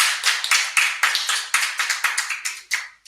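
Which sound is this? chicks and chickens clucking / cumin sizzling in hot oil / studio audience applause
studio audience applause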